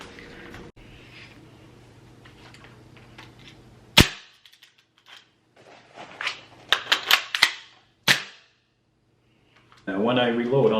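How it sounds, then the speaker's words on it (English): Magazines being swapped in a gun reload make a series of sharp metallic clicks and clacks, close and crisp, with a loud snap partway through, after quieter handling and before a burst of noise at the end. "So yeah, I will show you now how I would do a reload with one of these."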